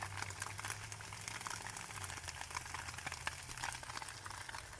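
Tofu frying in a pan, a steady loud sizzle and crackle of hot oil close up, continuous throughout with no voices.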